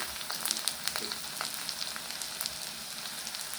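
Garlic paste and cumin paste fry with chopped onions in a pan, a moderate, fairly quiet sizzle dotted with sharp little pops and spatters at irregular intervals.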